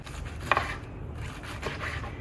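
A knife slices through food for a chicken avocado salad on a cutting board, giving a few soft, close cuts and light scraping strokes, quiet and without talk.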